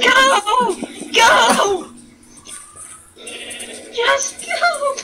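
Sheep bleating in Minecraft Pocket Edition, a few wavering bleats close up, mixed with excited voices talking over them.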